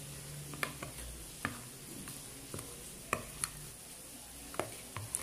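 Cake batter of jaggery and whole wheat flour folded by hand in a bowl, soft scraping and light taps of the utensil against the bowl at an uneven pace, quiet and close.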